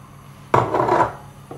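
Four eggs going into a Thermomix bowl while making black forest cupcakes: a single clattering, wet burst lasting about half a second, followed by a faint tap, in an otherwise quiet kitchen.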